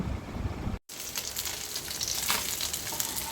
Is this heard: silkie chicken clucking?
no